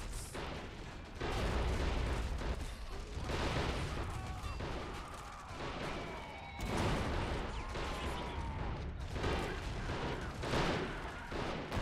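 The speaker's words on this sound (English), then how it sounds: "There's our artillery. Oh, it just vaporized that group." Artillery barrage in the WW1 game All Quiet on the Western Front, on the Italian front: loud, dense, continuous booms and blasts that roll on for the whole stretch, with heavier bursts surging early and again about halfway through.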